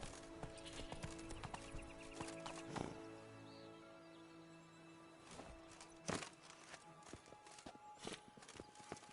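A horse ridden in The Witcher 3, hooves clip-clopping in an uneven walking rhythm with a brief whinny and snorts, fairly quiet and close.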